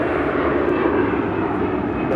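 Spirit airliner taking off from runway 25 right at LAX, a loud steady jet roar filling the whole moment without a break.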